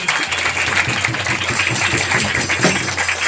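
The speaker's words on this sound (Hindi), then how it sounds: "जोरदार ताली बजाकर प्रभु को धन्यवाद दें।" A church congregation at a Sunday service claps loudly and steadily together in thanks, a dense sustained applause filling the room.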